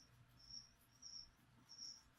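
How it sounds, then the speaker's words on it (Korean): Crickets kept as feeder insects for a leopard gecko chirp in three short, high trills spaced evenly apart, fairly faint over a quiet background with a light bump at the very end. "귀뚜라미 펄쩍펄쩍 뛰어다니죠"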